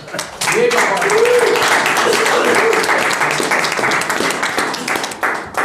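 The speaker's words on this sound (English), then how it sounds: "I want a round of applause for our executive producer, Diego." Applause from a crowd, with dense clapping that swells quickly and carries on steadily for several seconds, with voices mixed in.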